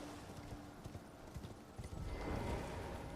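A horse gallops in Elden Ring, its hooves clip-clopping in a quick, irregular rhythm over faint background noise before a louder rushing swell near the end.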